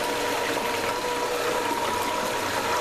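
Water pours and trickles steadily onto gold paydirt test material for about three seconds, a soft continuous splashing close to the microphone with no talk.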